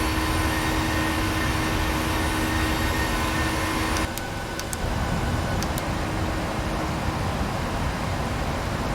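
Inside a PMDG 737 airliner cruising in the Prepar3d flight simulator, a loud, steady engine and airflow drone fills the cabin, with a faint tonal hum that drops away partway through and a few brief clicks.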